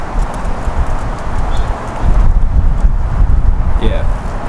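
Gusty outdoor wind buffets the microphone with loud low rumbling, strengthening after a couple of seconds while a new Honda Type R with Volk Racing CE28 wheels is filmed; no voices are heard.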